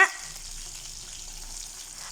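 Steady hiss of curry leaves frying in hot oil, loud at first then settling into a continuous crackling sizzle with no voices.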